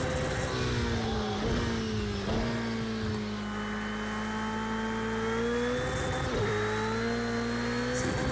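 A Ferrari 488 Challenge racing car in Project CARS 2 revs hard and close, its engine tone climbing through gears with brief dips at each shift, loud and continuous with no talk.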